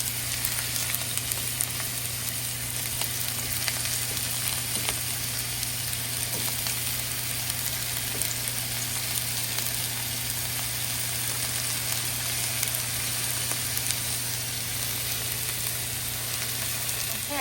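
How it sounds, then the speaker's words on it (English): Freshly harvested summer squash sautéing in a pan, a continuous even sizzle that holds steady and close for the whole stretch, with no voices over it. "I'm gonna get these sauteing in the pan"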